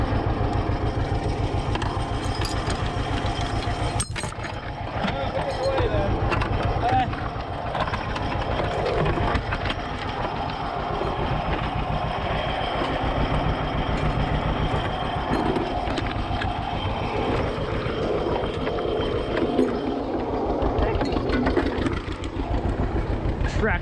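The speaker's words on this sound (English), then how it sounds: "0 to 60 on the tractor." A tractor engine runs with a steady heavy rumble for the whole stretch, throttle climbing gradually as it accelerates, and a person talks over it at times.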